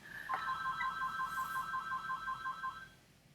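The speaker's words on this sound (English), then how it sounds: "I'm gonna let that phone ring and not be bothered with that phone" A telephone rings with a rapid, trilling electronic warble, repeated evenly for about three seconds at moderate volume over faint background hiss before it fades out.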